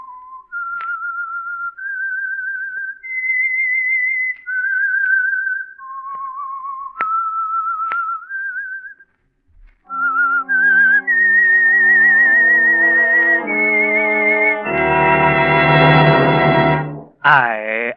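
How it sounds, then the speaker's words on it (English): Whistled signal theme of The Whistler radio program, a solo melodic whistle of short sustained phrases, followed by a loud orchestral musical sting that swells and ends abruptly. "That whistle is your signal for the Signal Oil Program"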